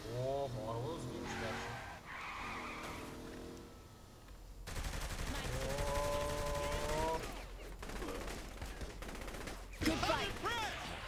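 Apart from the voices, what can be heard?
shotgun firing in video game Saints Row: The Third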